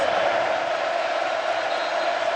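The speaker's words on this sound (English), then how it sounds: "Crowd now stirring it up." Football stadium crowd during an Alabama Crimson Tide vs Texas A&M Aggies game, a steady, dense roar of many voices rising and churning without pause, loud and continuous throughout.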